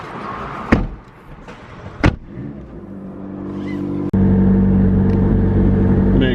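McLaren 600LT sports car setting off for a spin: two sharp door thumps, then the engine starts and settles into a loud, steady low idle rumble close by.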